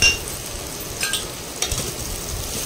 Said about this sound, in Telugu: కొద్దిగా మనము దంచి పెట్టుకున్న అల్లం, వెల్లుల్లి, జీలకర్ర, మిరియాలది యాడ్ చేసుకుందాం.